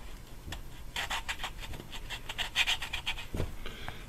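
A valve from a BMW 323i cylinder head is lapped against its seat with grinding compound, giving soft, rhythmic rubbing and gritty scraping strokes with a few light taps, close and quiet.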